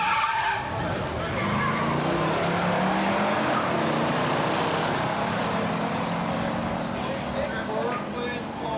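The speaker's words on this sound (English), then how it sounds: "Superbird with the Hemi and automatic." A Hemi-powered Plymouth Superbird with an automatic runs down a drag strip at a muscle car race, a dense sustained engine roar with some tire noise, heard under continuous announcer talk.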